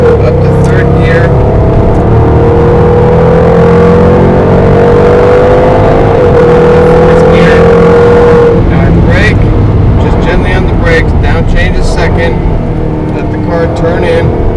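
A 2011 Jaguar XKR on a race track, its engine droning loud and close as it pulls smoothly under acceleration, pitch rising steadily then dipping at a gear change, with someone talking over the engine.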